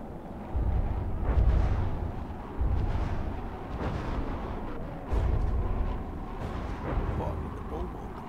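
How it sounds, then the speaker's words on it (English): Missiles exploding against a ship in From the Depths: a run of deep, rumbling blasts in close succession, each swelling and fading into the next, loud and heavy throughout with a low roaring tail. "when one hits the ship, all of the missiles seem to explode"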